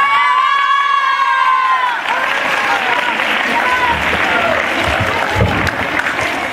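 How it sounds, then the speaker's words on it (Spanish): Audience applause with some cheering at a school poetry recitation contest, preceded by a ringing tone, a steady dense clapping that fills the space and stays loud throughout. "Fuerte los aplausos para Dana Laura"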